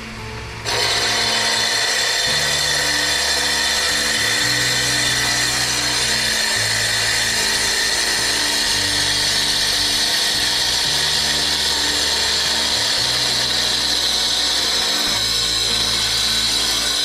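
A rock saw cuts steadily through a geode, its motor whine and grinding blade holding loud and constant for the whole stretch with no talk.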